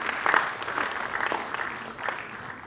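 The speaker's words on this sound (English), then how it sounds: "louder round of applause for all the organizing committee people" A conference audience at an HR congress on a campus applauds the organizing committee, a dense, steady wash of clapping at moderate level that thins slightly toward the end.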